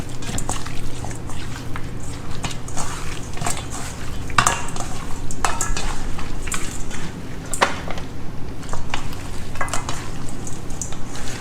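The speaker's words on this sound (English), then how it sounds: "Mix it really, really well so it's all nicely coated with that butter and the seasoning" Lamb riblets are worked by hand with butter and seasoning in a bowl, giving a steady close squelching and rubbing with occasional clicks against the bowl, continuous for several seconds.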